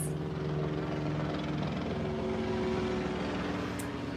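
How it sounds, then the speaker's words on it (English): Helicopter passing overhead during a live indoor demonstration, a steady broadband rotor-and-engine rumble held at even loudness throughout, with no talk over it. "Here comes the helicopter again."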